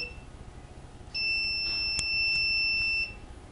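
An obstacle detector sends an alert to a mobile phone, which gives a steady high-pitched electronic beep lasting about two seconds, close and clear against quiet background hiss.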